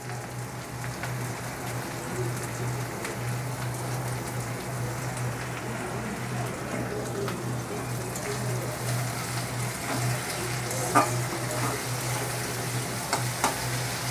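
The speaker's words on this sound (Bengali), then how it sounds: "এরপর আমি পেঁয়াজটাকে ভেজে নেব ভালো করে।" Onions frying in hot oil with salt, giving a steady, dense sizzle that stays close and even throughout, with a few faint stirring clicks and no voices.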